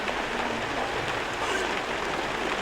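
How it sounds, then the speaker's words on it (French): Steady rain pours down over an outdoor velodrome during a Landais track cycling meet, a dense, even hiss of drops on surfaces that continues without a break. "Et pas de chance, il pleut toujours."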